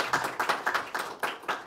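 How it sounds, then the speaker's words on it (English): A small group of people give a round of applause after an academic talk, a few sparse, distinct claps rather than a full ovation, quiet and brief. "I'm going to give you a round of applause for that."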